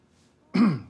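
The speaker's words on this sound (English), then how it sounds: "Clear my throat." A man in the Parks and Recreation comedy clears his throat once with a short, deep, gravelly rasp, loud and close, with nothing else around it.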